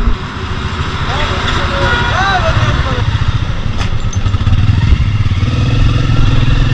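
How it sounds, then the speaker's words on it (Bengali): Several motorbikes start and idle together during a roadside halt on an early-morning ride, a steady loud engine rumble running throughout with clattering and voices mixed in. "সবাই বাইক স্টার্ট করছে"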